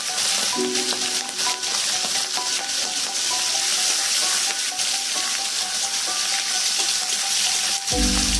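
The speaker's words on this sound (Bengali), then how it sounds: "কড়া গরম হয়ে গেছে, পরিমাণ মতো তেল দিয়ে মাছটা ভেজে নেবো" Fish frying in hot oil in a wok, a dense continuous sizzle holding steady and loud for over eight seconds, with faint tonal hums beneath and a low thump near the end.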